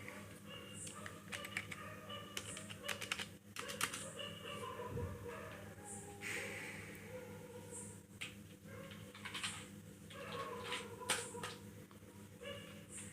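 Clicky typing on a DataLink ProDot KB-207s keyboard, with irregular bursts of close key presses and occasional heavier thumps like the space bar, over a steady background hum.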